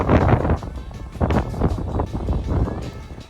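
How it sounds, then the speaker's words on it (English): Strong wind gusting across open sand dunes at a state park, buffeting the microphone in loud, broadband roaring bursts that rise and fall throughout, with no voices heard. "You can hear just how windy it was on the sand dunes."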